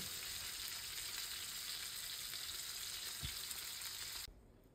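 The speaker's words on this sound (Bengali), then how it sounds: "এই যে ইলিশ মাছের আনাম ফ্রাইটা হয়ে গেছে।" Hilsa fish (anam ilish) frying in oil in a pan gives a steady, even sizzle at close range with no voices, before it cuts off sharply near the end.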